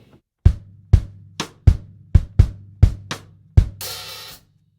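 A drum kit plays one bar with bass drum, cross stick and an open hi-hat: eight clicky hits in a syncopated rhythm, with a sustained low hum beneath them and a washy open hat ringing out at the end.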